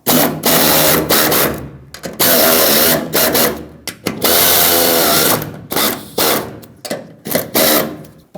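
A power tool snugging bolts on the fuel filler neck of a 2008-2010 Ford F-250, running in repeated loud bursts of whirring with short pauses between, close up and alone.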